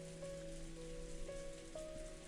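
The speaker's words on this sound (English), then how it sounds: "In the Golden Land, the quiet rain just kept on falling." Quiet, steady rain falls in the Umineko When They Cry visual novel, a soft even hiss with a faint tonal background drone and no talking.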